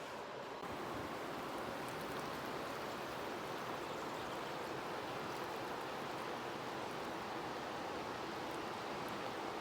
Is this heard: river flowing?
yes